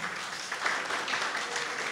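Applause from an audience at a Holi celebration prize handover, a dense, steady wash of clapping held at an even level throughout, mid-distance and without distinct voices.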